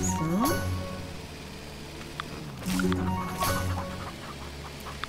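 Chickens clucking and squawking in the farming video game Farm Together 2, a few short calls over background game sounds, with a voice talking at times.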